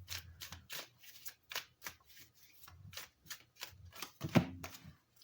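Tarot cards shuffled and drawn during a relationship reading, a run of quick papery riffles and slaps in steady bursts, close and fairly loud, with a sharper card snap near the end and no talking.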